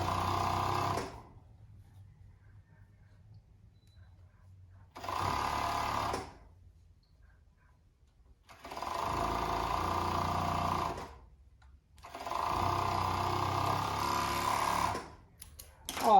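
Sewing machine stitching winter pajamas, running in three or four steady bursts of a few seconds each with brief quiet pauses between, fairly loud and close with no talk over it.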